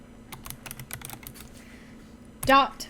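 A computer keyboard is typed on in a quick run of close, crisp clicks. After a short pause a voice briefly speaks.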